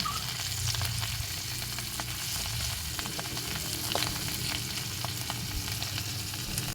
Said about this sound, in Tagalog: sinalang ko ulit yung kawali para naman sa pagpiprito ng tuyo